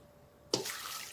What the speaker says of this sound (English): Then we'll be placing some water inside.